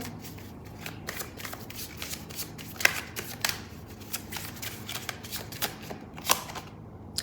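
Oracle cards are shuffled by hand in a series of quick, close riffles and flicks with soft slaps and taps, irregular and fairly quiet, with no voice.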